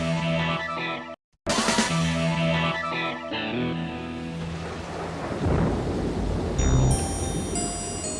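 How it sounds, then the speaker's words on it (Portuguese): Heavy rain pours over New York with loud rolling thunder cracks, a brief silent gap, then sustained downpour and rumbling, with a high tonal whine entering near the end. "Chove forte em Nova York."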